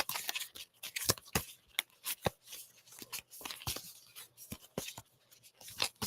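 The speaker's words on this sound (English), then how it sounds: "I'm not a great shuffler, don't judge." Reading cards are shuffled by hand in quick, soft, irregular bursts of papery flicks and slides, close up and quiet.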